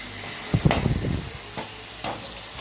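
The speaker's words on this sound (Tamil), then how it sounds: "நம்ம வெங்காயம் வதங்கட்டும்." Onions sautéing in a pan for an elephant yam (karunaikizhangu) curry: a short burst of close stirring clatter, then a few soft taps over a faint, steady sizzle.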